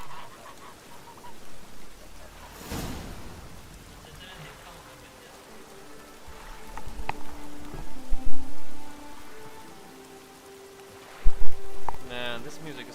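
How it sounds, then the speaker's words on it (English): Rain falling in The Witcher 3, a constant soft hiss of drops spread across the scene, with a few brief louder bursts and thuds breaking through the steady patter. "Why is it raining?"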